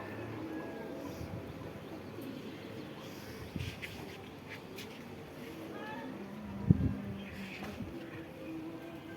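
Pigeons coo softly on a rooftop during rainy weather, a faint, distant murmur of calls with a few light thumps and flutters as the birds land.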